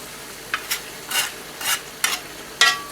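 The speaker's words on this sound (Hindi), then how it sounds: "अब हम इस पर अपना मसाला डाल लेते हैं पहले और इसे अच्छी तरह मिक्स कर लेते हैं" Spice masala being stirred into Lahore-style taka tak of kidneys and testicles on a flat pan, with seven short scraping strokes at irregular intervals over a quiet background and no talk.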